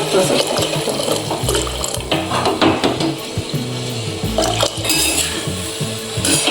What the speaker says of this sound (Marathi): आता ह्याच्यात आपण गुळाचं पाणी सोडूया